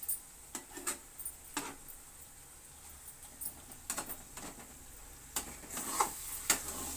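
Gongura pickle is stirred in a pan, giving scattered soft scrapes and brief clinks against the metal, with faint sizzling beneath over seven seconds and no one talking.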